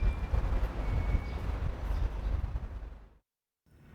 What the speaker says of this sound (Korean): 제가 직접 열차를 타고 서울 방면으로 가보겠습니다.